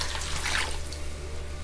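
Hot, not boiling, water poured from a tap or container for pantry au gratin potatoes with ham, a steady close trickle and splash running throughout without talk.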